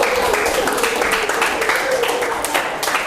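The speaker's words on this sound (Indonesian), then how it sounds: "Tepuk tangan lagi." Classroom applause at an Islamic inheritance teaching session, a dense, steady wash of many hands clapping together for about three seconds, fairly loud and close.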